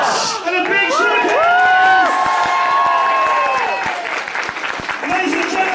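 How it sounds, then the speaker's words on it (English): Audience at a Doctor Who Q&A panel at EM-Con Nottingham convention applauds and cheers loudly and steadily, with whoops and shouts rising above the clapping, and voices calling out throughout. "A round of applause, please."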